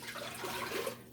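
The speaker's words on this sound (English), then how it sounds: "we're gonna add 4 cups of water to that." Water pouring from a container into a pot of chicken stock while making wonton soup, a steady close splashing trickle lasting about a second with no talking.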